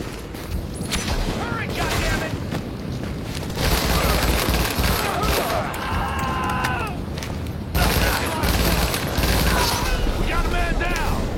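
Gunfire erupts after an order to open fire, a dense roar of shots, booms and mechanical clatter that continues loud and close throughout, with shouting voices mixed into the chaos.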